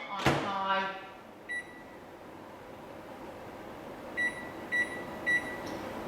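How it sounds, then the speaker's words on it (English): A microwave oven set to high for thirty seconds to melt butter: a door thud, then a low steady hum with a few short electronic beeps as it is set and started, quiet and close. "I'm going to put in the microwave again, 30 seconds on high"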